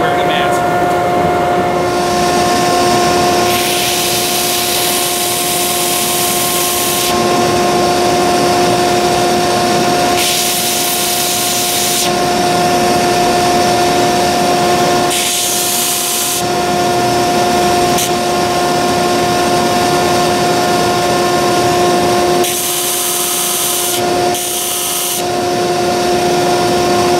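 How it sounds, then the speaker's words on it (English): A power grinder shapes knife handle material in a knifemaking workshop while a dust collector hums steadily, the grinding surging in bursts of harsh hiss over the constant drone, loud and close. "this stuff does have a pretty good stink to it when we grind it, so we're going to make sure we turn on our dust collection"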